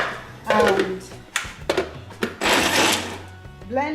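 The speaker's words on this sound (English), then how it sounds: "blend on slow speed." A kitchen blender blends peeled beans with a little water on slow speed for moi moi, its motor running in loud, rough bursts that start and stop, with brief talk in between.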